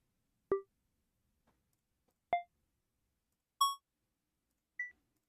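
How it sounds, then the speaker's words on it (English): Four short, clean electronic beeps at different pitches, spaced about a second apart, used as dialogue blips for a video game character, each isolated against silence. "They're just like beeps and boops"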